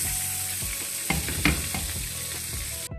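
Steaks sear in a hot pan with a loud, steady frying sizzle and a few sharp pops and clinks, close and continuous with no talking, cutting off abruptly near the end.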